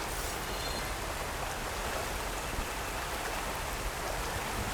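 Water in the video game Horizon Forbidden West, a steady broadband rush like flowing water or rain, even and unbroken for the whole stretch with no voices.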